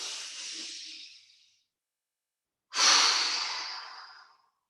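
Two long, deep breaths during qigong breathwork, each a breathy rush that swells and slowly fades, separated by a second of silence; close and clear.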